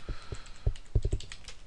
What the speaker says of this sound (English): I think I typed that wrong.